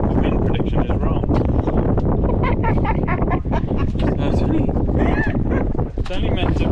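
Strong wind buffets a boat anchored at the Montebello Islands, loud gusty rumbling and microphone wind noise throughout, with a person talking over it.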